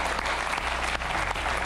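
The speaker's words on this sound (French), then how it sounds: "Applaudissements pour Timothée Vienne." A TV studio audience bursts into brief, loud, dense applause, a short continuous burst of many hands clapping.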